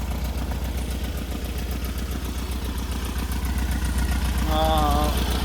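A car engine idles steadily at about 500 RPM on freshly rebuilt Weber 44 IDF carburetors, a loud, even low rumble throughout, with a brief voice-like tone near the end.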